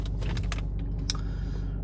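A 2016 Nissan Navara 2.3 dCi 190 Tekna diesel with 72,000 miles, engine idling after a push-button start, a steady low rumble with a few light clicks and a brief sharp tick, close, no talk.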